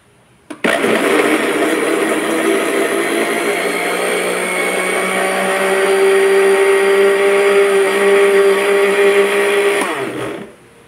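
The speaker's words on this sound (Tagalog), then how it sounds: "ilagay natin yung ating papaya dito sa ating blender" A blender whirs loudly and steadily for about ten seconds, starting abruptly and winding down at the end as it chops and purees papaya.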